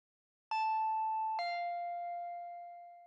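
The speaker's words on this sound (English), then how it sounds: "I heard the doorbell ringing." Two-tone electronic doorbell chime from the Higurashi visual novel game, two clear ringing notes about a second apart, the second tone lower and left to sustain and slowly fade, with no other sound around it.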